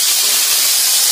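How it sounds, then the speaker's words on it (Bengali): Bam fish, an eel, frying in a pan gives a loud, dense, continuous hiss of hot oil, steady and close for a short moment with no voices. "এখন চলছে বাম মাছ ভাজা"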